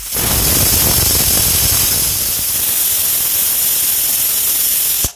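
Loud, steady hiss of steam rushing out under pressure from a pressure cooker cooking sweet rice, continuous for about five seconds before cutting off abruptly.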